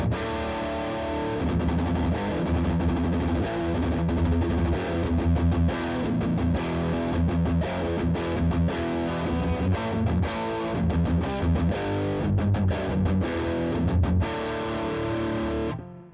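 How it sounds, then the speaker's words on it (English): Heavily overdriven electric guitar on a Paul Reed Smith amp's gain channel plays a loud, continuous rock riff of chords and palm-muted chugs, with a bassy, thick tone, ending in a ringing chord that cuts off. "now we're on the gain channel. Let's hear how it sounds."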